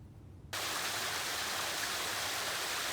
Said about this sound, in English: Just a little video of the waterfall, the little mini waterfall right here.